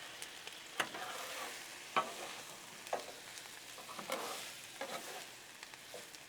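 Potatoes and onions being stirred on a Blackstone griddle: a steady soft sizzle broken by several sharp scraping clicks of a spatula against the flat top, close and moderately quiet with no talking.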